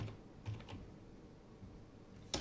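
Faint, soft keystrokes tap on a computer keyboard as a folder name is typed, with a few scattered clicks and a sharper key press near the end.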